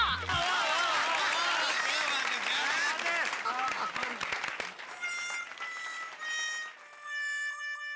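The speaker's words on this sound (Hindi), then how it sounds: "तालियां।" An audience at a housing-society Ganesh festival claps amid loud overlapping voices for several seconds, then the clapping thins out as bright musical tones take over.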